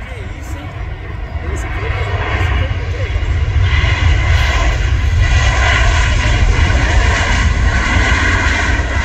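An Emirates Airbus A380 lands at Guarulhos airport, its engines a loud continuous roar that grows steadily, heard from a crowd of spotters with people talking over it.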